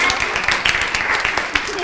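Library open house audience giving a quick burst of applause after a magic trick, dense clapping close and loud throughout.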